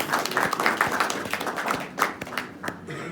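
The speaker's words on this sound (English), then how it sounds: "big round of applause." An audience at a presentation gives a short round of applause, a close, busy patter of many hands clapping throughout.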